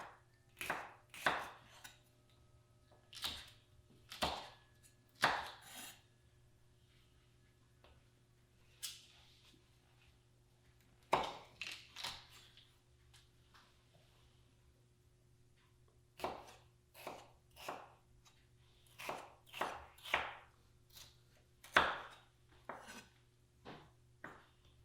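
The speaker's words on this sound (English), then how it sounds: "I'm just gonna cut this in half and give it a good rough chop" A knife rough-chops food on a cutting board in irregular clusters of sharp, close knocks with short pauses between bursts, over a low steady hum in a kitchen during a cooking demonstration.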